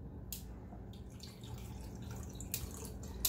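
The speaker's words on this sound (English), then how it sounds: "I should just pour this in. Don't waste cold brew." Cold brew coffee from a Bodum cold brew maker is poured into a cup, giving a soft, close trickle and drip of liquid with a couple of brief brighter splashes, with no talking.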